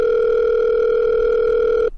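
Telephone call tone after dialing a number, a loud, steady, pure ringback tone sounding alone for nearly two seconds before cutting off abruptly.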